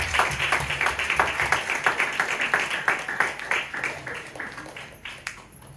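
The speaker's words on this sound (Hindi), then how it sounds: "प्रभु के लिए ताली हो जाए।" A church congregation claps together in a steady, fast, loud applause that fades slightly toward the end, with a few voices faintly underneath.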